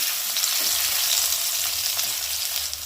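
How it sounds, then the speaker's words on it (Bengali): Chopped tomato frying in oil with potatoes for a Bengali katla fish curry, giving a loud, steady broadband sizzle throughout with no talking. "এবারে আমি টমেটো কুচিটা দিয়ে দেবো"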